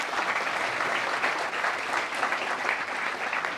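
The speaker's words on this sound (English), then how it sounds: "Let us again welcome him with a warm round of applause." Sustained warm applause from a seated audience at a formal youth programme, welcoming a distinguished guest; steady, dense clapping throughout at moderate volume, no voices over it.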